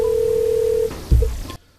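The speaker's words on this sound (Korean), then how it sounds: "전화가 갑니다" A smartphone places a voice-commanded call from the lock screen, with a sustained steady dialing tone for nearly a second followed by a short clatter and brief silence.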